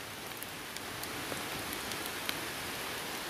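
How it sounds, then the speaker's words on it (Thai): Heavy rain falls steadily in a broad, dense hiss, close and continuous, with scattered sharper drop hits and no voices. "เจ้าฝนมันตกเละเละเทะเทะ"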